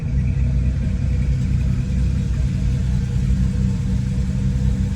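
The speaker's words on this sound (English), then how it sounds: "Listen to that Mustang there." A 1966 Ford Mustang idles at a classic car meet at Brooklands Museum, its engine giving a steady, close, deep rumble that holds evenly throughout with no voices over it.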